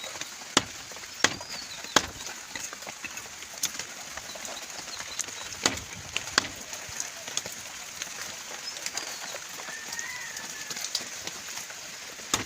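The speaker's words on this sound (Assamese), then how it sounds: "এয়া গাহৰি মাংস কাটি আছে" Pork is chopped with sharp, irregular blows, some loud and close, over a steady hiss of rain falling outside during the Bihu season, with faint bird chirps in the background.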